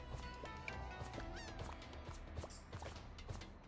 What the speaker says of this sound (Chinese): 我以为海鸥是要丢东西给我们